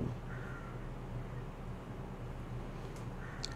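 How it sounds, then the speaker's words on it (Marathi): A crow caws faintly twice, once near the start and once at the end, against a steady background hiss. "कावळा. कावळा कोण आहे?"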